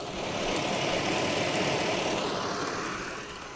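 A 2003 Chevrolet Monte Carlo SS engine runs at a steady idle, close and loud, with a dense rumble that holds constant and eases slightly at the end, with no talking.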